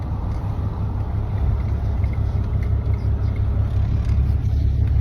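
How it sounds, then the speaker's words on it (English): Ram 2500 with a 6.7L diesel engine, given a little gas while suffering a power loss, producing a steady low rumble that swells slightly, loud and close, with no talk. "whenever I give it just a little bit of gas"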